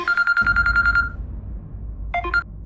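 A phone rings with an incoming call, a bright warbling ringtone trill lasting about a second, then a short burst of ringing again after a pause, loud and close over low background hum.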